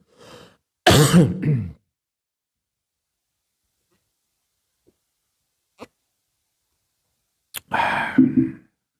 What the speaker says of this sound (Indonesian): Maaf, saya agak batuk ya, minum dulu ya.